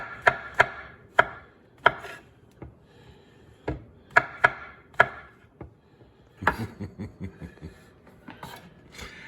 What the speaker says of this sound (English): Now I'm gonna cut up the cremini mushrooms.